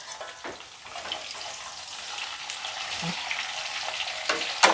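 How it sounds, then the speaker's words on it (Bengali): Vegetables frying in a pan on a gas stove for a light Bengali fish curry, a soft steady sizzle that builds gently, with occasional utensil taps and a sharp clink near the end, no voices. "একটু সবজিগুলো ভাজা হবে"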